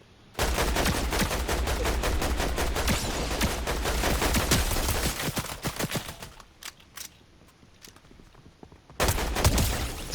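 Rapid gunfire from the game Fortnite rattles loudly in sustained automatic bursts, then drops to a quieter stretch of scattered single shots before another loud volley.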